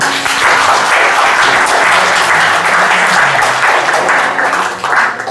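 Audience applause at a local event, dense steady clapping from many hands filling the whole stretch, loud and close, easing slightly near the end.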